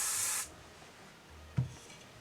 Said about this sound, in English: Just going to spray.